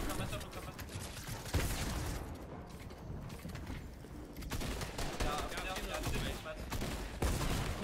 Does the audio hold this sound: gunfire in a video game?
yes